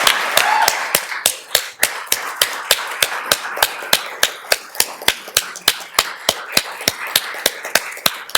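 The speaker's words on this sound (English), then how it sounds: "can we just give one more big round of applause for Dr." Evenly spaced, sharp claps at about three per second from an audience at a retirement celebration, steady and fairly loud over a soft background hiss for the whole stretch.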